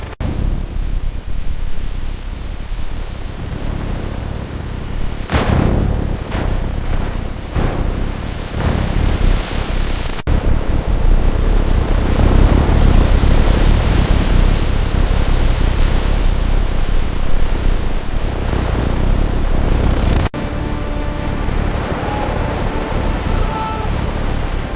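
Strong wind roaring in a storm at sea near a giant container ship, a loud continuous rushing broken by gusts and sudden cuts, with surf-like noise throughout.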